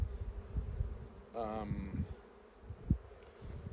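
Honey bees buzzing around a hive frame during an inspection, a steady close droning hum with a brief louder whine as one passes near.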